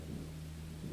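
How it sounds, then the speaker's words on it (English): Rumbling thunderstorm effect in a visual novel mod, a steady low roll of thunder with a soft wash of rain, evenly loud throughout the short stretch with no voices. "Keeping the sound of the storm as my main cover"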